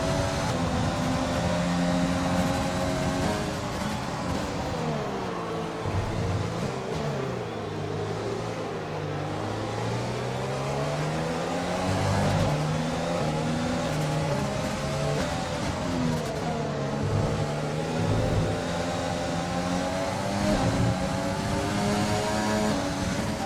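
A Formula 1 car engine in the F1 2020 racing game, during a career race in Canada, droning loud and steady with rising and falling revs through gear changes, running continuously with no talk over it.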